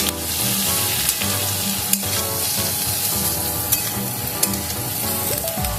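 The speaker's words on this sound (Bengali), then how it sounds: "ঝিঙেটা দিয়ে আমি কিছুক্ষণ ভেজে নেব তেলে।" Cut ridge gourd frying in hot oil alongside browned potato for Bengali jhinge aloo posto, a loud steady sizzle with a few sharp clicks of stirring throughout.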